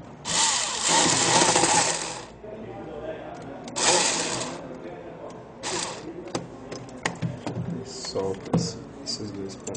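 Small screws being loosened on an HP 1215 toner cartridge with a power screwdriver or similar tool, giving two loud whirring bursts and then a softer one, followed by scattered clicks and handling noises, with a voice speaking intermittently.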